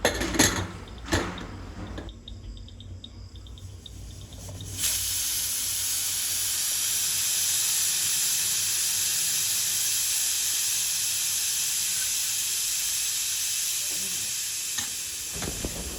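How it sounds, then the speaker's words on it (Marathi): A pressure cooker holding chicken Hyderabadi hisses steam in a steady, unbroken rush that fills most of the stretch, preceded by a few clattering kitchen knocks at the start. "आता मी कुकरचे झाकण बंद करून घेणार आहे आणि कुकरच्या 4 शिट्या मी"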